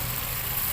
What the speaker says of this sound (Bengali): সর্ষে পোস্ত বাটা দিয়ে একটুখানি কষে নেব